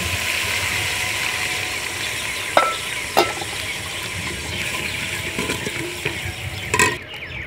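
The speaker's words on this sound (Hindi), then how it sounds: "अब हम इसमें टमाटर और सब्ज़ मिर्च डालेंगे।" Tomatoes and green chilies fry in a pan with garlic for chicken dum biryani, a steady close sizzle with a few sharp clinks of a spoon against the pan.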